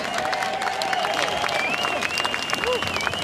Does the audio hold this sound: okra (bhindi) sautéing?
no